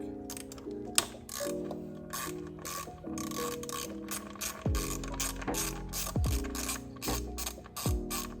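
A ratchet loosens a 10mm coil pack bolt on a Lexus NX200t, clicking rapidly and close in repeated bursts separated by short pauses, with no one speaking.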